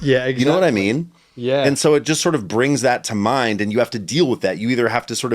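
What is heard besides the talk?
None of the usual background noises is heard.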